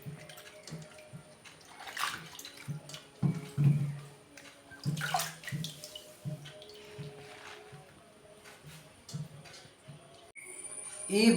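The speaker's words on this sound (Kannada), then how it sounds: "ಬಸಳೆಯನ್ನು ಚೆನ್ನಾಗಿ ತೊಳಿಬೇಕು." Malabar spinach leaves are washed by hand in water, giving intermittent splashes, drips and squishy sloshing bursts at close range, with brief pauses and a louder rush of water at the end.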